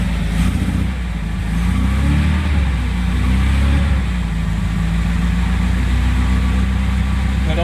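The engine of a 1957 Morgan Plus 4 runs on the choke, holding a loud, steady, uneven idle close by. Its rough low rumble swells slightly early on, and a voice talks briefly under the engine.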